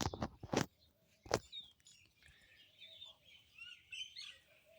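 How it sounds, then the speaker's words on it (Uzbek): A few sharp knocks sound first. Then young chicks roaming a backyard garden give soft, high, scattered peeps at a moderate distance, thin and intermittent over quiet outdoor background, with no voices. "Mana jo'jalar."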